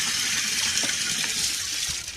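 Water is poured steadily onto coconut coir, giving a continuous loud, close splashing and gushing with no pauses and no talk.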